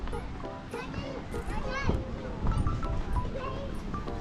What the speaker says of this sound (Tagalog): Lakas ang alon ha.